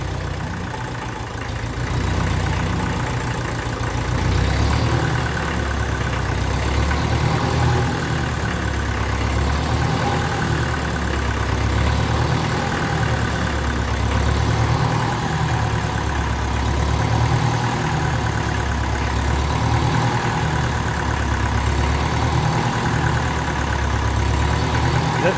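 A 1954 Ferguson TEF-20 diesel tractor engine idles steadily and loudly throughout, with a low, slightly pulsing rumble and no other sounds standing out.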